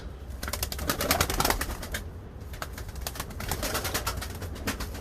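An Iraqi breed pigeon cooing close by, soft repeated coos over a busy textured background with occasional wing flutters, no talking heard.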